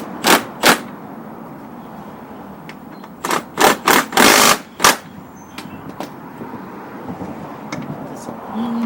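A Milwaukee M12 3/8 stubby impact wrench fires in short close bursts, two quick rattling hits and then a cluster of several longer hammering runs, over a low background hum while servicing a Toro SR4 Super Recycler lawn mower.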